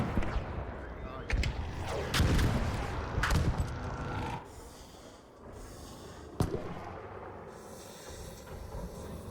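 Gunfire in the video game ARC Raiders, several heavy booming shots and impacts in the first half, then quieter rumbling with one more sharp bang.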